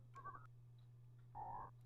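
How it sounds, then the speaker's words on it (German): Frogs in the Super Nintendo game Flashback give two short, separate croaks over a steady low electronic hum, faint and with no talk. "Oh, Frösche."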